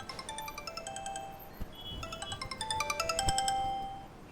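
A phone ringtone playing a repeating electronic melody of bright tones that grows slightly louder, with a few low thumps underneath; no talk.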